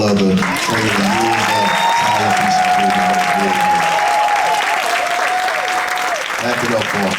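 Loud, sustained applause from a church congregation for award recipients, dense clapping throughout with a voice talking and a sustained tone over the top, steady from start to finish.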